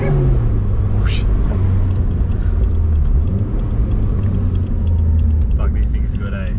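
Toyota 1JZ engine with a custom exhaust revving, a deep rumbling burble rising and falling in a few throttle blips, with people talking over it.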